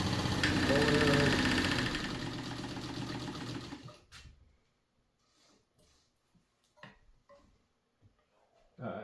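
A White model 265 sewing machine stitches with a steady, close mechanical whir for about four seconds, then stops, leaving a few faint clicks and small handling noises.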